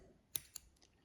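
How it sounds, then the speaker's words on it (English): Scissors being picked up for knitting work, giving two small sharp metallic clicks followed by a softer faint rattle, very quiet and close, with no talking. "Next, we are going to grab our scissors"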